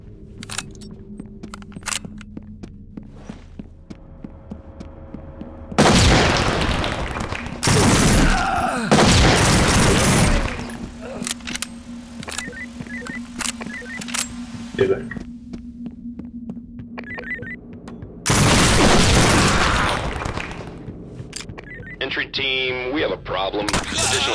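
Heavy bursts of gunfire from the tactical shooter SWAT 4 erupt in several loud, sustained volleys between quieter stretches of game ambience and radio chatter.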